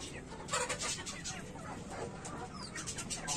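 Dragon Aseel chicks cluck faintly in a noisy setting, their soft, repeated calls scattered through a brief stretch.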